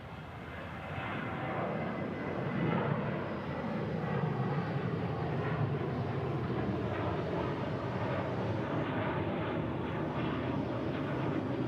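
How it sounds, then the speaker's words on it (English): An old KLM Embraer regional jet at Kansas City International Airport gives a steady, broad engine roar that swells in the first seconds and then holds loud and constant throughout, with no voices. "It sure looks like an old KLM ERB."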